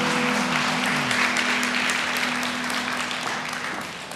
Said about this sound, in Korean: 우리 박수로 한번 축복합니다.